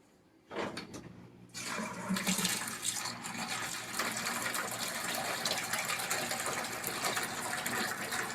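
Water running in a steady stream during a volumetric flow measurement at a weekly water sampling site, starting abruptly after a brief quiet moment and then holding a constant, broadband gushing rush to the end.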